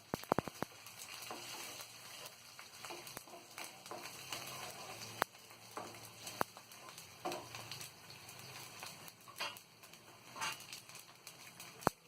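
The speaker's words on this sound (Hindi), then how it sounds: "और इसी में ये शक्कर डाल देंगे। हल्का से इसे हम चलाएंगे।" Sugar being stirred into a dhokla mixture, for a besan dhokla, gives a steady close scraping and sizzling texture with a few sharp clicks against the pan, and no talking.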